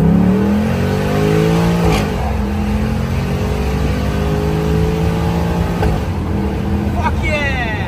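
Car engine revving hard and climbing through gears, with rising engine tones that drop at each shift, loud and close, with a person's voice over it.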